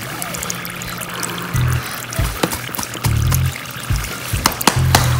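Dry ice fog bubbles churning in a container of water, giving a loud close gurgling and bubbling with repeated bursts and short pops, and no talking over it.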